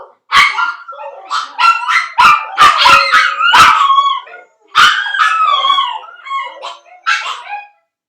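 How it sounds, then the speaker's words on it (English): Several dogs howl together at night, overlapping yips, barks and drawn-out wavering howls that rise and fall in loud close bursts with a short pause midway. "I think that's the nightly howling."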